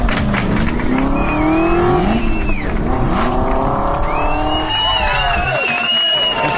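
A voice imitates an Aston Martin engine at an auto show, producing loud, continuous revving with rising and falling pitch sweeps and squeal-like tones.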